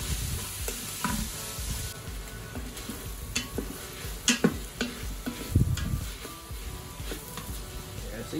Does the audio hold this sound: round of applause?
no